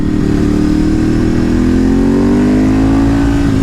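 A Ducati 848 EVO motorcycle engine revs loudly and close, its throaty roar climbing steadily in pitch as it accelerates.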